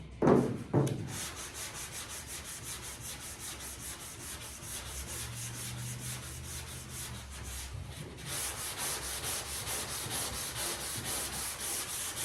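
Steady, continuous sanding as a block rubs back and forth over car paint, close and fairly loud, with a brief knock at the start and no voices.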